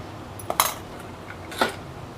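Idli plates clink and knock as they are stacked one on another, two brief metallic clatters a second apart, moderately close with a quiet room hum behind.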